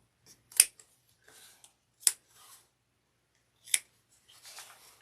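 Scissors trim excess fabric at the corners of a sewn bag, three sharp, close snips spaced about a second and a half apart, each followed by soft rustling of cloth.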